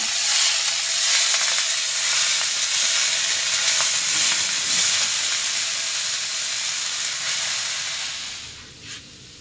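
Greens sizzling and hissing in hot oil in a pan with eggplant, a steady, loud broadband fry that holds throughout and fades slightly near the end.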